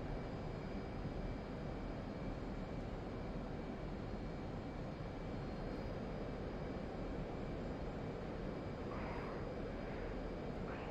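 An F/A-18 Hornet jet engine roars in a flight simulator game as a steady, continuous broadband rumble with a faint high whine, unchanging throughout, with no talk.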